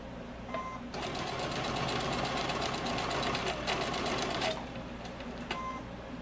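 A Baby Lock sewing machine stitches in a fast, even mechanical whir that starts after a second, runs steadily for several seconds, then stops, followed by a few light clicks.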